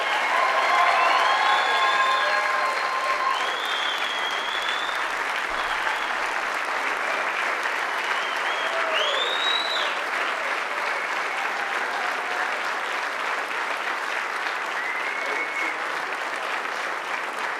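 Audience at a charity event applauds continuously as a dense, sustained wash of clapping from a large crowd, with scattered whoops and cheers rising through it and holding steady for the whole stretch.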